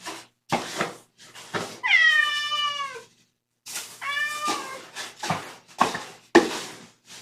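Kittens meow close by, with two long, drawn-out cries standing out among short thumps, rustles and scratching sounds at bedtime.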